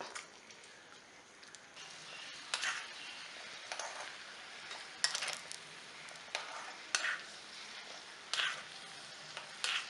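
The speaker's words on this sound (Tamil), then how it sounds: "ஏலக்காய், திராட்சை முந்திரியை வறுத்து போட்டுக்கலாம்" Cashews and raisins frying in ghee for Kerala-style ada payasam, a quiet steady sizzle with scattered crackles and small pops, close and without voices.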